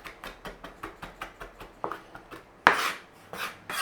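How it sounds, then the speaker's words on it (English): Rapid, rhythmic knife chopping as garlic is minced on a board, a steady series of short crisp taps followed by a few louder scraping strokes. "Mince the garlic up."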